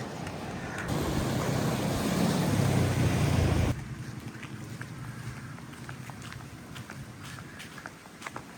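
Sea waves wash onto a Sri Lanka beach in a steady broadband roar, louder for the first few seconds before easing to a softer, even surf with faint scattered ticks.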